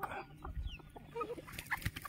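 Chickens cluck inside a poultry shed, with a few short, faint, scattered calls and soft rustling over a low background hum.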